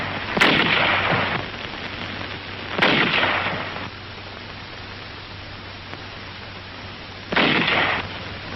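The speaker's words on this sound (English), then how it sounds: "the highly mobile 75mm pack howitzers delivered continuous fire to the north" Three heavy booms of 75mm pack howitzers delivering continuous fire in wartime, each a loud blast that rolls off into a hissy, noisy old recording, spaced a few seconds apart with no talk.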